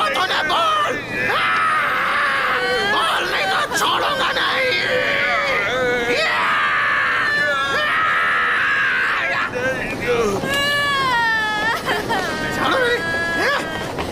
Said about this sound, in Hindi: क्या चिल्ला क्यों रही हो इतनी बुरी तरह?